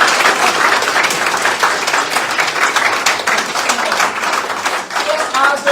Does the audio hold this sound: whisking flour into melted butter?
no